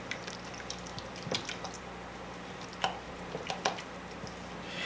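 Egg salad with drained dill relish, salt and cracked pepper stirred in a bowl: soft wet squishing and light scraping clicks come close and fairly quiet, in irregular strokes with no talking.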